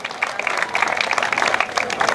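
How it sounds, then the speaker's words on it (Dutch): Audience applause for the third-place rider on the podium at a Harderwijk elite and under-23 road cycling race, scattered clapping that is steady but moderate and fairly distant, with some crowd murmur beneath. "mag ik een geweldig fijn applaus voor de man op 3, Tino Haakman."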